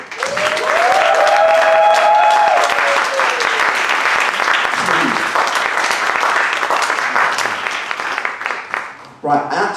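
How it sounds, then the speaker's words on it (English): Poetry slam crowd applauding the poets, loud, dense clapping with a few whoops that peaks early, then thins out and stops as a voice starts to speak at the very end. "Round of applause, please,"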